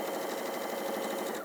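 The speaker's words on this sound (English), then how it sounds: "I'm going to sew a 1/4 inch seam down there" Sewing machine stitching a quarter inch seam in fabric, a fast, even mechanical whir running steadily throughout the short stretch at close range.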